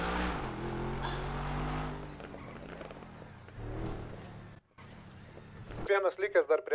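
A BMW drives past, its engine swelling and fading beneath shouted talk, then cut off by a sharp burst of louder noise near the end.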